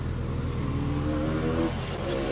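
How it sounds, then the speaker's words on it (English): A restored 1968 Yamaha DT1 250 two-stroke enduro motorcycle engine held at high revs, a steady, loud, buzzing drone with a slight rise toward the end, close by and without talk. "Up top, the bike revs out fantastic."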